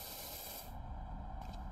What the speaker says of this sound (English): Did you spray inside the bike's butt? I did. See, look, I spray clean.